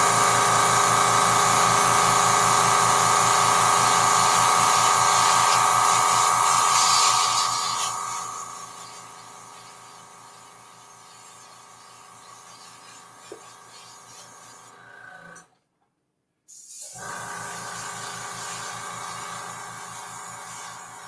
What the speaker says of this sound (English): When I edit the video, I'll tone down the compressor sound.